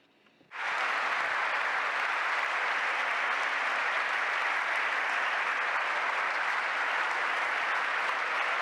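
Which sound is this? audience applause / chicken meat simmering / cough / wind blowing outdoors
audience applause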